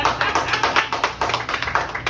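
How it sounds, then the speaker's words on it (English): A classroom of students applauding together, a dense run of hand claps with rhythmic swells, close and fairly loud, with no talking. "please give yourselves a round of applause"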